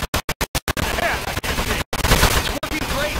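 Gunfire aimed at metal in the video game Aperture Desk Job: a rapid burst of sharp repeated shots at the start, then noisy clanging impacts and chaotic game sound with brief cutouts.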